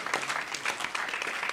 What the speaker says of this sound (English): That one deserved a clap.